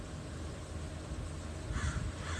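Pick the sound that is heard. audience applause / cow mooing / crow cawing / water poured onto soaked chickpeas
crow cawing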